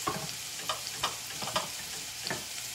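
Garlic frying in a pan for vegan lentil soup gives a steady close sizzle, with scrapes and taps of stirring landing every half second or so.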